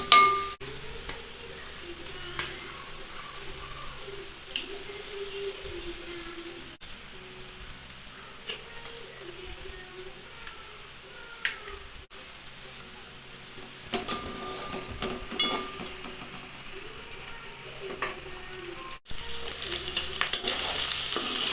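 Rice with eggs, turmeric and mango pickle is stirred and fried in a pan, giving a steady close sizzle with scraping spoon strokes. The frying grows louder and harsher near the end.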